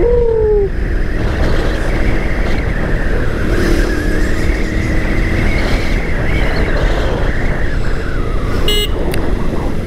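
KTM Duke 390 third-generation motorcycle riding along a street, with a loud steady engine drone and rushing wind noise throughout, plus a brief high whine at the start.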